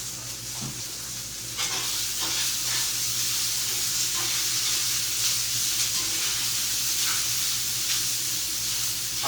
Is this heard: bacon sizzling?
yes